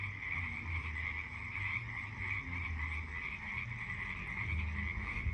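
Frogs croaking at night near San Ignacio, a dense continuous chorus of many overlapping callers with a steady high trill and lower pulsing croaks, no voices.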